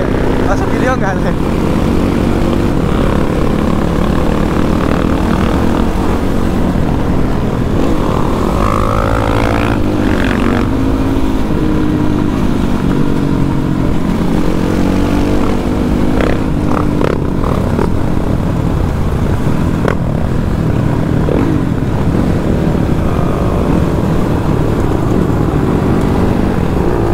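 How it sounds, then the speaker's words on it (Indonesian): Several dirt bikes, including a Kawasaki KLX, cruise together on asphalt on a night ride in Lembang, their engines droning continuously and loud, with occasional revs rising and falling while people talk over the noise. "gerombolan motor kebun yang jalan di aspal"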